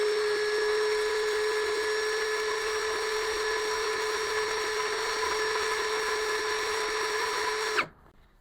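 An APR AP17+ cordless drill spins with no load at speed setting 2, around 2600 RPM, giving a steady, loud, high motor whine for nearly eight seconds before it cuts off abruptly.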